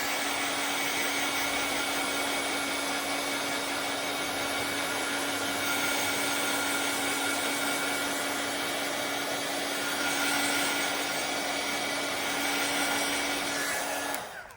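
A hair dryer or heat tool blows steadily and loudly close by, drying watercolor paint on a handmade floral greeting card, a continuous whirring roar with a fixed hum that runs unbroken and cuts off at the end.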